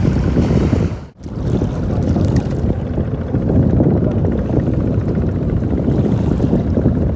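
Sea waves and wind roll past steadily during shore casting for buso fish, a loud, continuous broadband wash with heavy wind buffeting on the microphone and a brief dropout near the start.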